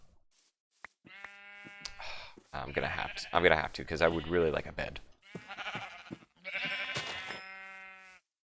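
Sheep in the Minecraft video game bleat in several drawn-out calls, loud and close, overlapping someone speaking.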